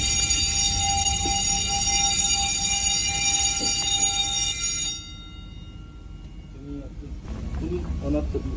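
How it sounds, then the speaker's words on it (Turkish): An alarm aboard a ship sounds loudly with a steady high-pitched electronic tone for about five seconds, then stops, leaving quiet room noise and a voice speaking. "Alarm geldi şu an."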